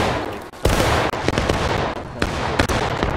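Musket volleys crack and rattle in War of Rights, the Civil War-era multiplayer game, with a dense run of overlapping shots, loud and continuous, forming a rolling barrage with some sharper close reports standing out.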